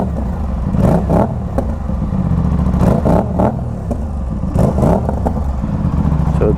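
Motorcycle fitted with a GPR Ghost full-system exhaust, dB killer installed, revved repeatedly up close, a loud continuous engine rumble with several sharp throttle blips over a steady idle.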